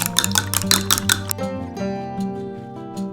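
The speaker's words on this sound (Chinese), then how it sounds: "差不多需要5只鸡蛋，加入1小勺盐，搅拌均匀" Five beaten eggs with a spoonful of salt are whisked in a bowl, quick clinking strokes of utensil against the bowl that stop halfway, followed by softer ringing clatter.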